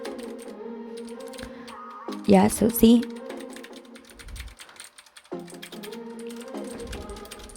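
Redragon K551RGB mechanical keyboard with blue switches clicking during typing, a run of sharp close clicks with a brief louder burst, heard under someone talking.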